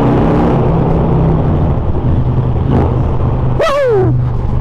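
A Harley-Davidson Street Glide with Chrome Works exhaust revving loud and close inside a tunnel, a thick continuous engine rumble that swells in pitch through a quick throttle blip near the end.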